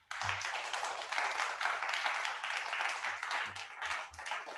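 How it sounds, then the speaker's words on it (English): Faint audience applause from a small group, scattered claps running steadily for a few seconds at low volume, alone without speech. "We should have some kind of applause for starting on time."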